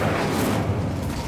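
A fire spell, Incendio, cast in the video game Hogwarts Legacy, giving a loud, sustained low roaring whoosh of flame that fills the whole moment without any voices.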